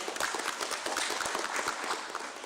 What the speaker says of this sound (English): they deserve an applause as well